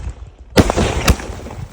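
Sivakasi jelly firecrackers bursting outdoors, two sharp loud bangs about half a second apart, each followed by a brief crackling decay.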